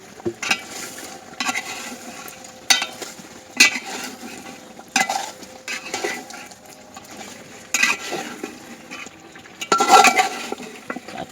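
Gravy with yogurt is stirred in a cooking pot in a village kitchen, giving repeated scraping and clinking strokes of a spoon against the pot over a faint sizzle, with no talking.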